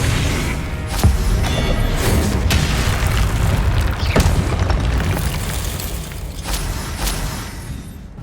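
Confringo spell blasts in Hogwarts Legacy burst loudly over a dense rumbling game backdrop, several sharp booms landing at irregular intervals, with no speech.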